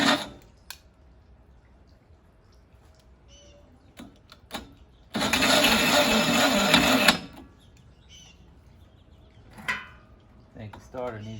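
Starter motor cranking the engine of a Malibu Grand Prix car, a loud grinding whir for about two seconds amid quiet clicks and clunks, with someone speaking briefly afterward.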